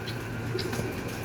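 Homing pigeons coo softly before a bath, low murmuring calls rising now and then over a steady background hum, close but faint.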